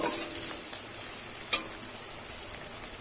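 Chopped green chilies frying with lightly fried onions in a pan make a steady soft sizzle, with a few brief clinks and scrapes of stirring, close and without talk.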